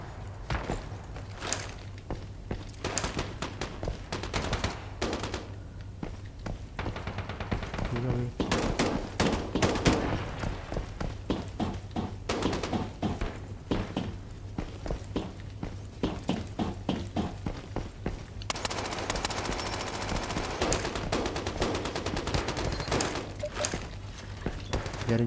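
Gunfire in the video game Lost Light rattles in repeated bursts and single shots, mixed with footsteps and game sounds over a low steady hum throughout.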